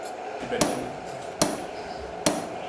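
Hand tools struck with a hammer to punch decorative patterns, three sharp metallic taps spaced roughly evenly over a steady background hiss, fairly close.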